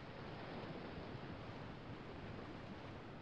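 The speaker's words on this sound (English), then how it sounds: "I do find the sound of the ocean very calming, though" Steady, soft ocean surf washes without a break in a Detective Barbie: Mystery Cruise video game scene aboard a cruise ship, a faint, even broadband rush with no voices.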